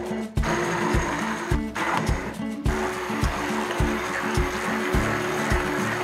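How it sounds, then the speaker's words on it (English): A KitchenAid stick blender about five years old runs loudly and close with a steady whirring drone, a slight rhythmic rattle and brief dips in pitch as it works through raspberry jam. "We have had this KitchenAid stick blender for probably 5 years now, and it is still going strong."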